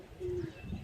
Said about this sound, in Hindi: ये आ गया कबूतर बिल्कुल छत पे